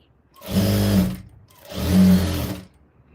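A sewing machine stitches a folded blouse hem in two steady motorized bursts, each about a second long, with a short pause between them. The machine sounds close and fairly loud, and no one speaks.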